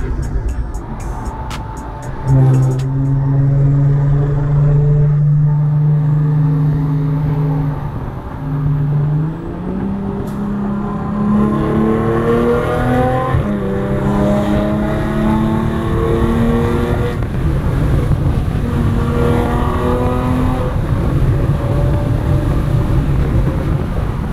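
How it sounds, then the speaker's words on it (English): A supercharged Audi S4 with performance modifications revs and accelerates through rising gear changes, its loud exhaust roaring and droning close by without a break. "This exhaust needs to chill. It is so loud"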